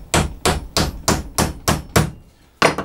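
A hammer drives a bottom bar into a wooden Dadant beehive frame held in a vise: seven sharp, evenly spaced knocks, close and loud, with a short pause before the last strike.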